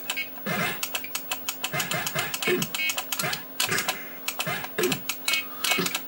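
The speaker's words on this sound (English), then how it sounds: "the noise you heard here in the background is my Amiga demoing exactly same game" An Amiga computer runs the Final Blow fighting game demo in the background, giving a rapid string of sharp clicking and thumping hits over a low steady hum, with faint game sounds behind.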